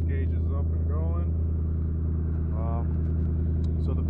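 A turbocharged BMW E90 engine idles after starting, a steady low drone that runs unchanged underneath someone talking nearby.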